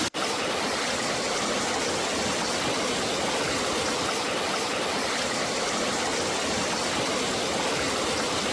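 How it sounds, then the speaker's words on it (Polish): A hot spring stream with small waterfalls in Krabi, Thailand, its water 40 to 50 degrees, rushes in a loud, steady, unbroken roar of splashing water, close by and with no voices. "To są takie wodospadziki, gdzie tutaj ta woda ma mieć między 40 a 50 stopni."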